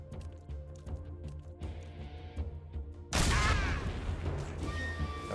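A loud explosion in Metal Gear Solid 3 bursts in suddenly about midway, following quieter game ambience and small thuds, then a dense rumbling crackle with debris that persists to the end.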